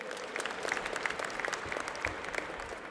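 An indoor audience at a Bangladesh 50th anniversary celebration applauds the performers, with moderately loud, scattered clapping that holds steady for a few seconds.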